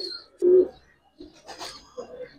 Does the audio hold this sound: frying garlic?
no